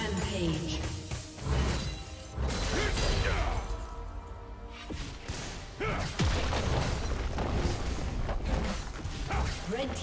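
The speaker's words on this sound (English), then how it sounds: "Red team's turret has been destroyed." A turret is destroyed in the League of Legends video game, with loud crashing and mechanical crunching booms layered over dense, continuous game effects for about ten seconds.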